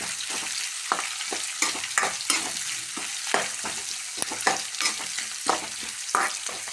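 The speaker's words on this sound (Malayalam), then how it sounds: "നാല് വറ്റൽമുളക് നമുക്ക് ഫ്രൈ ആയിട്ട് കിട്ടണം" Dried red chillies frying in a pan, a bright continuous sizzle broken by frequent stirring scrapes and clinks of a spoon against metal, close and fairly loud, with no voices.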